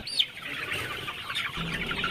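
Chickens cluck and chirp in a short burst near the start as they are caught and tied during a farm chicken harvest, followed by continuous farmyard background noise.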